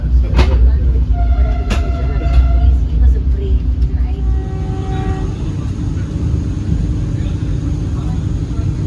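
Steady, dense rumble of a Vande Bharat Express on the Konkan Railway running at speed, heard from inside the coach with tonal motor whines shifting over the constant rolling noise.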